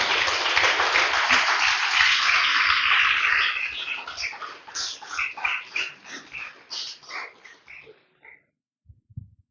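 Church congregation applauding during a sermon, a dense, steady burst of clapping that breaks into scattered, uneven claps and fades out near the end.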